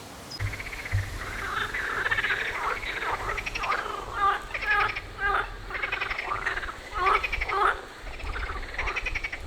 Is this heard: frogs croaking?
yes